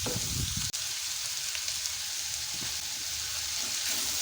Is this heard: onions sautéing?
yes